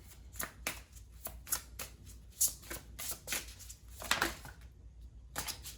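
Tarot cards are shuffled by hand in quick, repeated riffling bursts, close and fairly quiet, with short pauses between each pass and no speech.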